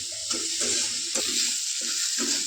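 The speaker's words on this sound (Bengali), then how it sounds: "আলুটাকে দেখো এইরকম ভাবে মোটামুটি ভেজে নিচ্ছে।" Potatoes with turmeric, chili and coriander powder fry in a pan with a steady, loud hiss, broken by regular stirring scrapes that come every half second or so, close up with no talk.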